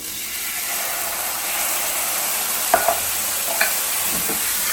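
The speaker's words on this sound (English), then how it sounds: "We're going to add our can of tomatoes." A can of tomatoes tipped into a hot pan, setting off a loud, steady sizzle that fills the clip, with a few faint clinks and stirring sounds partway through. Nobody speaks.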